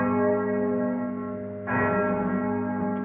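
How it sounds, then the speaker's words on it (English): Old Major, the heaviest bell of Newcastle Cathedral, rings loud and near with a deep, humming tone, and a second strike lands midway as the first one fades. "We then also have Old Major, which is the heaviest bell."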